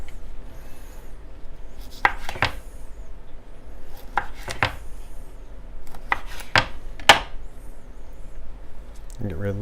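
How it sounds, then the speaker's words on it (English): A knife slices down through half an avocado on a cutting board, giving several short, crisp cuts spread unevenly across the stretch, close and fairly clear over a quiet kitchen background. "Now we're going to do a half of an avocado. Slice it down."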